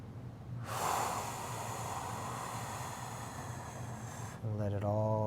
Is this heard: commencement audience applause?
no